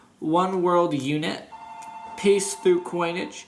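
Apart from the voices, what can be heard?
telephone ringing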